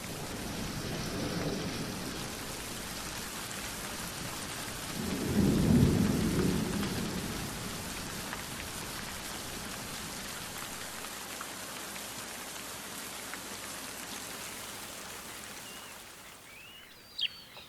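Steady rain pours down on a Spanish dehesa oak woodland throughout, with a deep rumble of thunder rolling through early on and a few sharp drips near the end.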